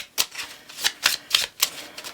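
A tarot deck is being shuffled in a quick series of crisp riffling bursts, about eight short ruffles in two seconds, close and fairly quiet with no talking.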